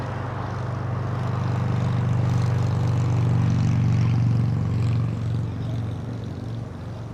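A Delta Boeing 767-300 airliner arriving at LAX after a flight from JFK, its engines a steady low roar that swells toward the middle and then slowly fades, with faint talk at times.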